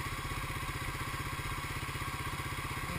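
A Honda 350 Fourtrax four-wheeler engine idles steadily with an even, rapid low thumping pulse that holds constant throughout, moderately close with no talking.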